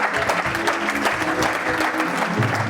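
A church congregation claps in steady, dense applause, continuous and fairly close, with faint voices mixed in.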